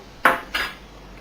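Two quick clinks of a utensil against a mixing bowl while apple cake batter is stirred, the first sharper and the second softer, close and fairly quiet.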